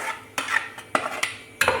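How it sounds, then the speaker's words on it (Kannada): Marinated mutton for a green masala goes into hot oil in a frying pan, giving a few sharp metal clinks and scrapes of stirring over a soft, low sizzle, close by. "ಈಗ ನಾನು ಮ್ಯಾರಿನೇಟ್ ಮಾಡಿಟ್ಟ ಮಟನನ್ನು ಹಾಕ್ತಿದ್ದೇನೆ."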